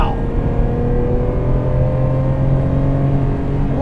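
Steady engine drone from a 1991 Ferrari Testarossa, a flat-twelve sports car, held at high revs with sustained harmonic whine and faint voices around it.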